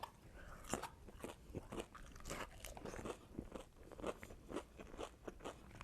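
Repeated close crunchy bites and chewing on a lemon pepper dry rub chicken wing, irregular crisp crackles over a quiet background with no talking.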